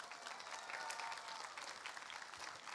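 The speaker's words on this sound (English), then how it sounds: "give a round of applause for the ladies over here" Steady, even applause from an audience at a runway costume contest during a comic convention in Raleigh, a distant wash of many clapping hands with no voices on top.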